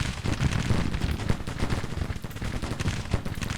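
Artillery shelling in Grand Tactician: The Civil War, a continuous loud barrage of booming and crackling fire with no pauses, overlapping blasts rolling together throughout.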